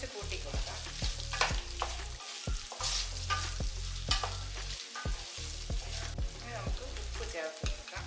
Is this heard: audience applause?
no